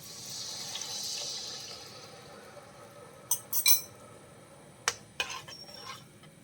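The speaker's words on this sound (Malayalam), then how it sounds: "ഇനി അതിലേക്ക് നമ്മൾ നേരത്തെ വെള്ളത്തിലിട്ട് വെച്ചിരുന്ന പുളി പിഴിഞ്ഞത് ഒഴിച്ചു കൊടുക്കാം" Squeezed tamarind water poured into a cooking pan while making vendakka karakuzhambu, an okra curry: a soft background hiss, then a few short splashy pours with faint clinks of utensils, close by and fairly quiet, with no talking.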